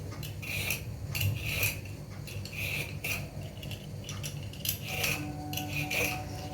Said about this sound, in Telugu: దీన్ని ఇప్పుడు రౌండ్ రౌండ్ ముక్కలు తరిగేసి వేసేస్తాను